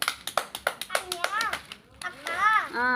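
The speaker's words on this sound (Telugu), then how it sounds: "డబల్ అంటే క్లాప్స్ కొట్టండి రవికి." Children clap rhythmically in a string of sharp claps, then young voices chatter and call out over the clapping.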